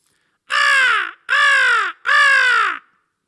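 A raven gives three loud, harsh caws in close succession, each about half a second long with short gaps between, heard alone with no other sound.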